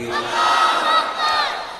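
Large crowd inside a big mosque shouting back a chant in unison, one loud swelling call with a second wave near the end.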